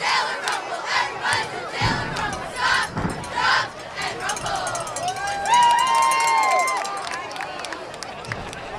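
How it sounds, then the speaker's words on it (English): A big crowd at a Friday night high school football game between Farmingdale and Oceanside fills the air with continuous roaring and shouting, chant-like bursts rising and falling, while cheerleaders rally the stands and some nearby voices talk over the din. "Big crowd here on a Friday night for this big matchup."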